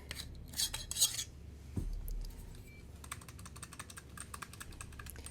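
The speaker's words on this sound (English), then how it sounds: "the core was really rattly on the first one I got" The loose core of a SabNeo V8 Lava Blade lightsaber rattles with quick, light metallic clicks and jangles as it is shaken close by, coming in short bursts and then a denser run of ticks.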